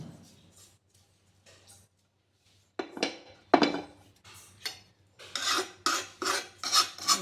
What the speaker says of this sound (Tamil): எடுத்து நம்ம ஒரு ட்ரேவில் கொட்டிக்கலாம்